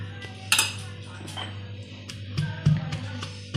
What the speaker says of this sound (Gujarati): 1 ગાંઠિયો જે લસણ લીધેલો અહીંયા આપણે ખાંડી લઈશું